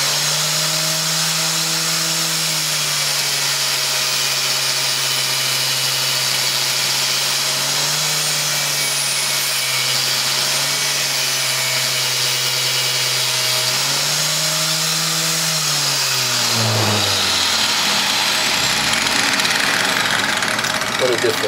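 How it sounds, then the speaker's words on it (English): A homemade wire wheel tool, built from recycled scrap metal and driven by a motor, brushing a rusty piece of scrap metal: a steady loud whir with a scraping hiss that winds down near the end. "I'm gonna brush this rusty piece of metal."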